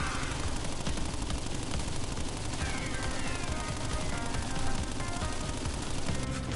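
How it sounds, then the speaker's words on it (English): Pinstripe Potoroo's machine gun in Crash Bandicoot N-Sane Trilogy rattles in a dense, continuous burst of rapid shots, loud and sustained the whole way through with no talking. "This guy is really more bark than bite, even though he has a frickin' gun. A frickin' machine gun."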